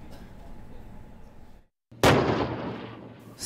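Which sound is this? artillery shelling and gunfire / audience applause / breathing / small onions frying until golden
artillery shelling and gunfire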